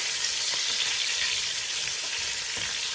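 Onions sauté in a hot pan alongside a ribeye and patacon meal, giving a dense, unbroken hiss of frying that stays loud and close from start to finish.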